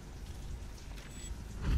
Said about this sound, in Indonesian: Wah, hujan gede lagi.